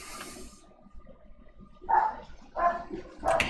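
Dogs barking in short bursts at close range, three clear barks arriving at roughly regular intervals after a quiet, murmuring start.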